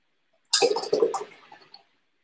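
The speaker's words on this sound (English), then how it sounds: "Then I'm going to wash off my brush right away." A paintbrush swished and rinsed in a water cup, a brief watery sloshing burst of about a second, close and fairly loud, with no other sound around it.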